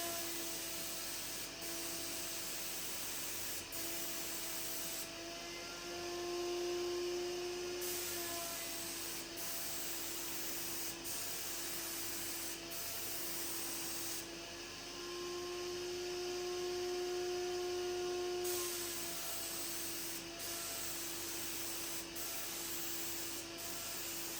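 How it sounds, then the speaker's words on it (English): A steady hiss of a spray gun spraying paint runs continuously with a droning hum from box fans fitted with furnace filters underneath, broken by faint clicks and short shifts in tone. "I don't have a fancy spray setup, but this works surprisingly well."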